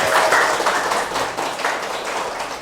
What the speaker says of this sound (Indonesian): Tepuk tangan dulu buat Rana